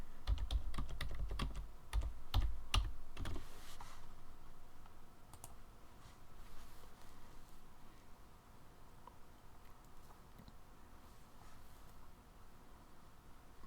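Quick, close keystrokes clatter on a computer keyboard as a username is typed, a dense burst of clicks in the first few seconds, then a few scattered taps over quiet room hiss.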